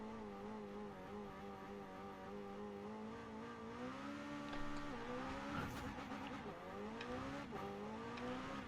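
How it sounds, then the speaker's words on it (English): Racing video game car engine revving steadily at high pitch on a track, sustained and loud, with pitch rising and dipping through the clip and no talking. "If you're wondering why I'm revving it so it won't automatically kick me from the server."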